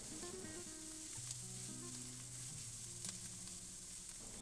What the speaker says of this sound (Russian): Добавьте перец чили на сковородку и перемешайте все ингредиенты.